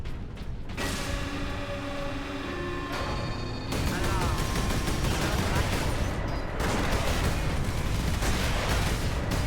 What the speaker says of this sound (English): I assume that we will be firing the weapon.